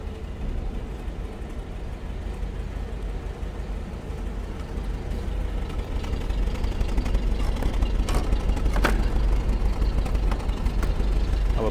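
A 1956 Lincoln Mk II Capri hardtop coupe idles steadily from the rear, its dual exhaust with new mufflers giving a deep, continuous rumble that grows slightly louder midway, with brief higher clicks near the end.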